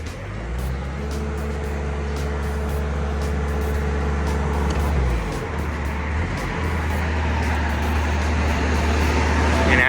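A Komatsu WA150-5 wheel loader's diesel engine rumbles loud and steady through a test drive, its deep drone shifting pitch midway as the machine works, heard up close.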